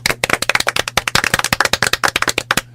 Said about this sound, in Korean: 일단 박수 한번 다시 시작합시다